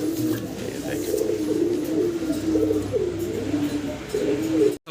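Golla pigeons cooing steadily, soft rolling low calls repeating close by, with a faint murmur of voices underneath.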